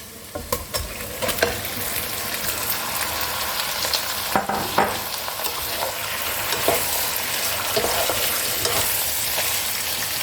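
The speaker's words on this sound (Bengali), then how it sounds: "এবার আমি এর মধ্যে মাংসটা দিয়ে দেবো।" Pieces of mutton for a saffron mutton korma hit a hot pan and fry with a steady, close sizzle, broken by scraping stirs and a few sharper clatters, with no voices.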